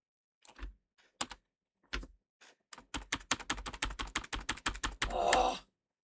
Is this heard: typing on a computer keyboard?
yes